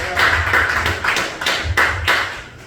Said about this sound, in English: Y'all give Paige a round of applause.